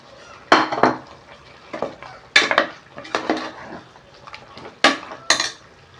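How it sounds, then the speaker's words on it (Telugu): Masala gravy goes into fried mutton in a pan for a mutton, chicken and egg biryani, with loud scraping and clanking of a utensil against the pan. The stirring comes in repeated bursts, close by, with no talking. "మనం మటన్ అంతా ఫ్రై అయింది కదా, ఈ మసాలా ఇందులో వేసేద్దాం."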